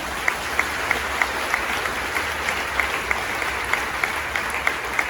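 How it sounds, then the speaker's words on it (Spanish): A retreat audience applauds, steady massed clapping with sharper claps recurring at a regular rhythm throughout. "Un aplauso para la Virgen María"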